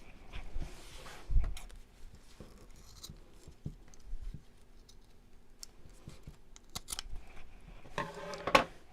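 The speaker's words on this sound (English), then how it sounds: "Now with the zip open, we can snip off the ends." Scissors snipping the ends off a fabric zip during sewing of a box pleat cosmetic pouch, a series of quiet irregular clicks and snips with light handling rustle, ending in a louder crisp cut.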